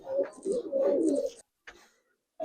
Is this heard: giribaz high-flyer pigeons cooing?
yes